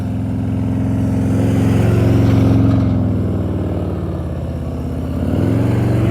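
A motorcycle at slow-speed riding practice in California, its engine idling with a low throbbing rumble and a few throttle blips that raise the revs before settling, close and with no talk.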